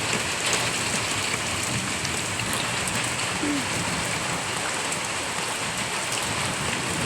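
Heavy rain pours steadily, a dense even hiss of drops hitting surfaces that never lets up, with no voices.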